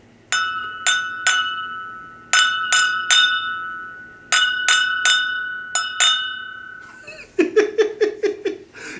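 Drinking glasses are clinked together in a jingle-bell rhythm of bright, ringing chimes in short groups, loud and close, with a burst of laughter near the end.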